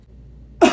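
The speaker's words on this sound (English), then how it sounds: "And cough hard." A single hard, abrupt human cough lands near the end after a stretch of near silence, loud and close.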